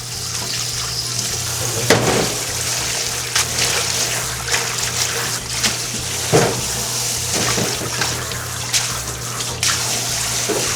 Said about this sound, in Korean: 잘 손질해준 두릅은요, 흙도는 잔여물이 없도록 여러 번 헹궈서 준비해주세요.